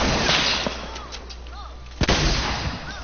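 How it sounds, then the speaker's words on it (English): A pistol fires in a shooting video game, one sharp, loud shot cutting through dense game background noise, with a few fainter pops around it. "Oh well, using a pistol."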